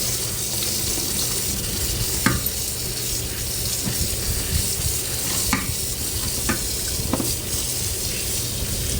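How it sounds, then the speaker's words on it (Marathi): Spring onion greens are rinsed and swished in water in a home kitchen, giving a wet, sloshing hiss broken by several sharp splashes and clatters, close and moderately loud, with no talking. "आता ही आपण कांद्याची पात आधी स्वच्छ धुवून घेऊया फिरायची आधी स्वच्छ धुवून घ्यायची"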